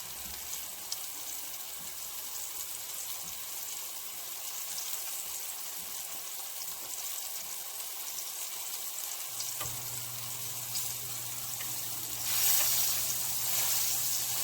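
Cube steak browns in a cast iron skillet, giving a steady, soft sizzle and frying hiss that grows louder near the end, with no talking.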